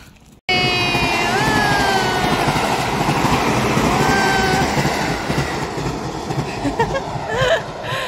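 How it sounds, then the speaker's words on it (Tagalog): A train rolls past close by in Japan, a loud steady rumble of wheels on rail with squealing tones, starting abruptly and continuing throughout. "Choo-choo train live!"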